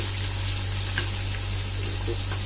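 About 1.25 kg of onions fry in oil for chicken biryani, a steady hissing sizzle with faint crackles and a low hum beneath it.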